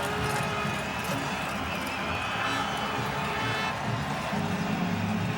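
A horse runs at a Canadian football game in a stadium, Calgary Stampeders against BC Lions, with galloping hooves faint beneath a steady roaring crowd.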